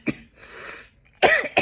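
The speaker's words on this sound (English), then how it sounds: "Now I'm choking again." A person coughs and chokes in a few harsh, close bursts with a short raspy breath between them, heard alone without speech.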